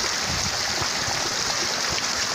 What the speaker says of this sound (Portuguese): Olha para vocês verem a enxurrada como que tá.